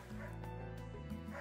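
A dog barks and yips in quick succession, a strained whiny bark held briefly, fairly close and alone.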